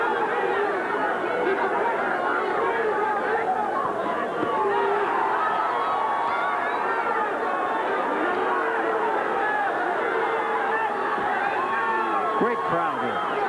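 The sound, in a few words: boxing crowd chattering and cheering at a fight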